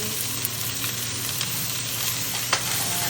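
Onions, carrots, celery and garlic frying in a pot for beef stew, giving a steady, close sizzle with faint stirring scrapes over the top.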